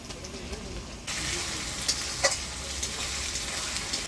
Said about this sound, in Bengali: এবার দিয়ে দেবো থেতো করা রসুন